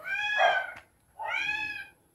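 A cat gives two clear, drawn-out meows close by, separated by a short pause, with nothing else in the background.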